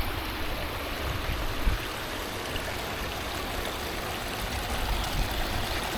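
Water running over a log in a backyard pond makes a steady, even rush and trickle that carries on without a break, fairly soft and close.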